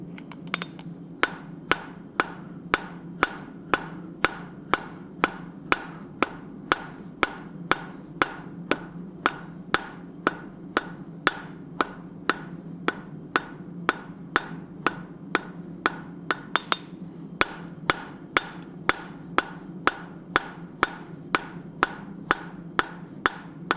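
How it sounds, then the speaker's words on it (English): Steady hammer blows ring out on hot metal over an anvil at a blacksmith's forge while gifts are being made, dozens of sharp, evenly spaced strikes at a brisk rhythm, close and loud, with no talking. "Hopefully people don't mind watching me boringly forge their Christmas gifts."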